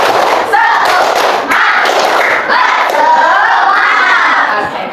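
A class of children shouts and claps together in a rhythmic classroom cheer, loud and close, with sharp beats punctuating the chant.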